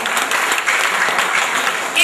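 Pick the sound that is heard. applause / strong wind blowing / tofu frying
applause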